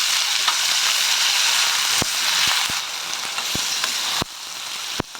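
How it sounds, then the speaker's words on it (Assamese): Chicken seasoned with ginger, garlic, turmeric and salt fries with onions in a pan, giving a loud, close, continuous sizzle broken by several sharp utensil taps and stirs. "এতিয়া মই চিকেনখিনি দি দিলোঁ।"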